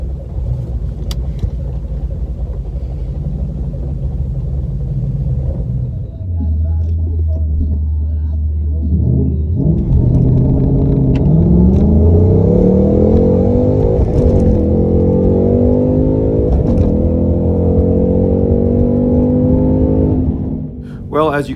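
A Ford Mustang Mach 1 launching in a no-prep drag race against a white Camaro: loud engine rumble rising into a long, hard acceleration pull with shifting pitch, then cutting off near the end.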